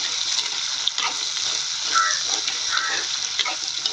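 Chopped shallots and sliced onion fry and hiss steadily in a pan while being stirred, a continuous close sizzle broken by soft scraping strokes, with no talking over it.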